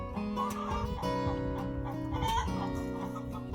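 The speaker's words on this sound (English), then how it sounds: "And that song she's singing is called her egg song." A hen clucks her loud egg song after laying in a chicken coop, a steady run of rhythmic, insistent calls close by with no talk over it.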